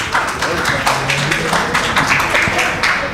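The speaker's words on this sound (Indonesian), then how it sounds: "Sekali lagi tepuk tangan." Audience applause at a 2023 university public lecture for new communication students at FIKOM Moestopo, a short burst of dense, steady clapping filling the hall for about three seconds.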